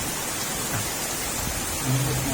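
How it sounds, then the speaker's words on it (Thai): Heavy rain pours steadily as a dense, even hiss with a low rumbling undertone, loud and continuous throughout with no talk. "มากับสายฝนเนาะวันนี้"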